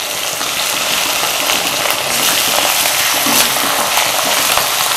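Garlic and ginger paste with onions frying in a karahi, a loud, dense, continuous sizzle with stirring, close and unbroken throughout, no speech.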